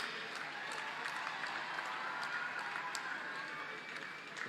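An audience claps at a medal ceremony honouring a double Olympic medallist, a dense, even wash of applause from a moderately distant crowd, sustained for several seconds.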